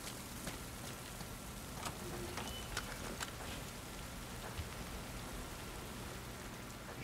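Steady rain pouring down outdoors in The Last of Us Part II, a dense continuous hiss with scattered brighter drop ticks throughout, no voices.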